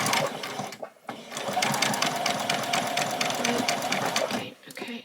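A sewing machine back stitches across a small doll's dress seam, its rapid motor whirring running steadily with a short stop near the start and another at the end.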